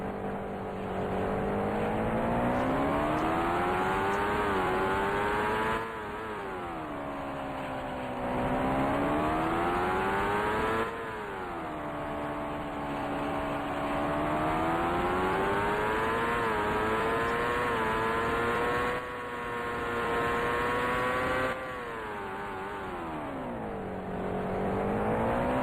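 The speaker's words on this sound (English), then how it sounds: "Almost running out of gear here in 6th, right at the top of the rev range." Engine of a 1990 CART Indycar at the Toronto Grand Prix in Indycar Racing II, droning loud and steady near the top of its rev range in sixth gear, pitch rising and falling in long sweeps as the car lifts and accelerates, no voices.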